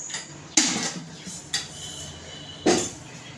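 A kadhai pan set on the stove as two spoonfuls of oil are added, heard as three sharp metallic clanks of spoon against pan over a quiet background.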